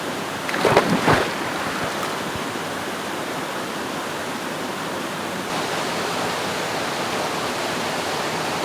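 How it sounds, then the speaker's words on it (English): Water rushes steadily in a continuous broad roar, with a brief knock or splash near the start. "the water's flowing out everywhere"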